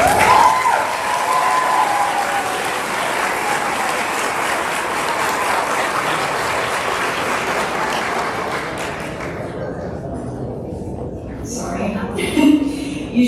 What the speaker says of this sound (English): I just want you to give them a round of applause